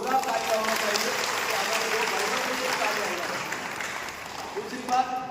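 Steady audience applause fills a public meeting hall, a dense continuous wash of clapping at fairly close range that swells slightly near the end, with a voice talking over it.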